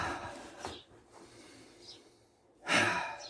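Slow meditative breathing, with a soft exhale, a quiet stretch of faint breath noise, and then a stronger, nearer breath toward the end, with no talking.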